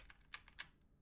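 Short, quiet bursts of keyboard typing, a handful of soft clicks with two slightly sharper keystrokes, alone with no voices.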